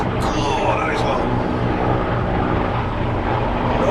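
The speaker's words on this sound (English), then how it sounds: "it's some kind of helicopter going on" A helicopter drones overhead in a continuous loud broadband rumble with low throbbing rotor tones, steady and close, while a voice speaks over it and sharp clicks sound early on.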